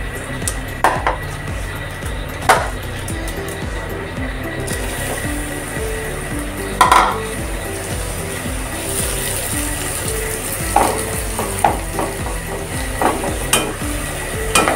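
Washed moong dal is stirred and fried in a pan, with a steady sizzle under regular scraping and clinking of a spoon against the metal, close up and without speech.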